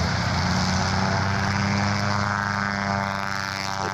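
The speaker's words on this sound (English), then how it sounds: "So lining up, this, ladies and gentlemen, is the largest biplane in the world" The radial piston engine and propeller of an Antonov An-2 biplane drone loudly during a takeoff display, a steady heavy roar that holds and then slightly fades as the aircraft pulls away, with no voices.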